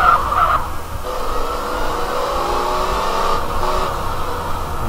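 A Mercedes engine in the video game GTA multiplayer runs steadily, a buzzing mid-pitched drone with slight revving swells, moderately loud and even throughout with no voices.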